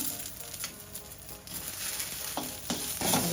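Grated coconut and tomato fry in a pan for a lentil ball curry, giving a soft, continuous sizzle. Occasional stirring scrapes and bursts of crackle rise louder toward the end.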